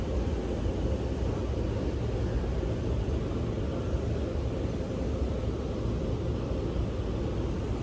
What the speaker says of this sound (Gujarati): તો ફાઇનલી આપણે પ્લેનમાં બેસી ગયા છીએ અને પ્લેન ઉપડી પણ ગયું છે.